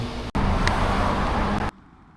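MV Agusta XTrenta motorcycle fitted with an SC GP22 exhaust, riding on the road: a loud, steady engine roar lasting about a second and a half, then abruptly cut off.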